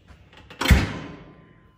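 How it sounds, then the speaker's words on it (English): The metal door of a Hwam 4640c wood burning stove is shut with a single solid clunk and a short ringing tail, heard close up with no talking. "I'm gonna shut the door."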